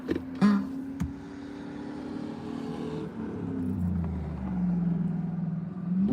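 A truck engine revving hard while accelerating, a low rumbling roar that rises and falls across several seconds, fairly close, with a couple of sharp knocks near the start.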